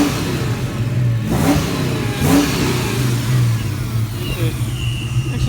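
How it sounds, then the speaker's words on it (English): A supercharged 1994 Ford Mustang GT V8 revs with a deep, rumbling engine note, two throttle blips rising over a steady idle and heard close up without talk. "It's got that nice American muscle rumble to it."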